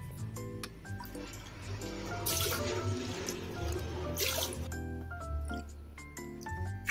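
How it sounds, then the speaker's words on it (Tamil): Water poured into rice in a cooking pot for sweet pongal, a steady liquid fill with dripping and splashing that swells in the middle, set against faint background music. "மூணு கப் அளவுக்கு தண்ணி சேர்த்தாச்சு"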